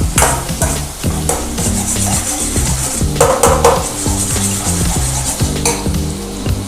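Green chilies sizzle in a hot pan for paneer dosa while a utensil stirs and scrapes them in a steady rhythm. The frying is loud and close and runs the whole time with no talk.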